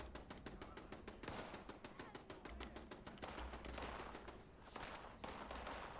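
Turret in the post-apocalyptic video game Fallout 76 fires long strings of rapid, evenly spaced shots, loud and sustained, broken by brief pauses between bursts.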